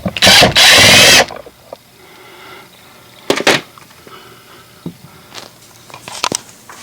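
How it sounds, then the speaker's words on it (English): Loud mechanical whirring of a tool backing out a thick screw from a 2022 Mazda 3 Hatchback door panel, in one strong burst at the start, followed by scattered softer clicks and handling knocks. "take off that thick screw that's in there"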